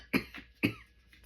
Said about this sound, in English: I still have a little bit of cough.